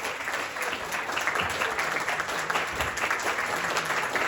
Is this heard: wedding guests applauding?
yes